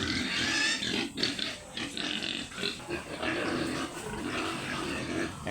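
Pigs on a farm grunt and squeal continuously at close range, a dense, noisy chorus of overlapping oinks and snorts with no pauses.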